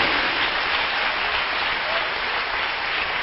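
Steady, even applause from a church audience during a sermon fills the moment, a dense uniform patter of many hands with no breaks.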